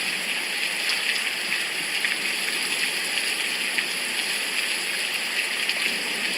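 Steady, dense hiss of heavy rain on a very rainy day, with continual dripping and pattering spread evenly throughout, moderately loud and unbroken.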